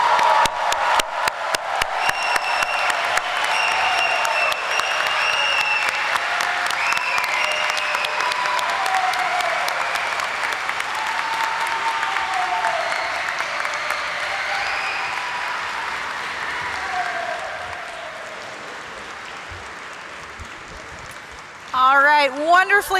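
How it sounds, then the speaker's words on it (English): A crowd at an undergraduate commencement ceremony in a gym applauds and cheers for the graduates, sustained clapping with whoops over a long stretch, background talk underneath, fading near the end as a voice returns. "Shall we have a round of applause for all of our graduates?"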